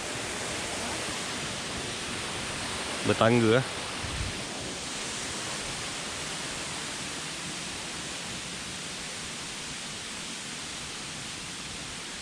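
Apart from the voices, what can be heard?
waterfall at Fraser Hill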